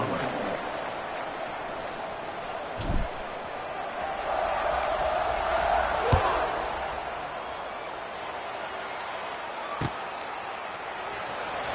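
A large stadium crowd in a college football video game murmurs continuously in the background, with a few sharp thuds and a brief swell of cheering midway.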